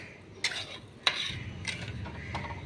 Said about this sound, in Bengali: হাফ চা চামচ হলুদ দিয়ে দিচ্ছি এগুলো সব মিক্স করে দিচ্ছি